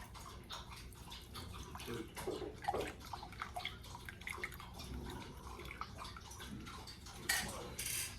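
Sage and clove tea is poured through a strainer in a quiet kitchen, giving a faint, continuous trickle with small drips and light clinks of the strainer against the cup and no talking.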